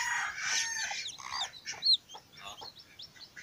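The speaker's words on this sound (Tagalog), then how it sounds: "yung bagong himsa natin na manok" Chickens in a rural countryside setting give soft clucks and short chirping calls, faint and intermittent against quiet background noise, with no one speaking.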